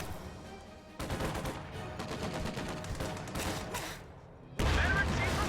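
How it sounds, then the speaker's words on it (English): Heavy machine gun suppressive fire in a World War II strategy video game, dense crackling bursts of automatic gunfire that stop and restart, with a louder burst near the end. "Heavy MG! Suppressive fire!"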